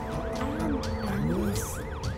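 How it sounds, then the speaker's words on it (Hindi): An ambulance siren wails in a steady rising and falling cycle, loud and continuous, with traffic noise underneath. "यहाँ पर एम्बुलेंस आ गई है।"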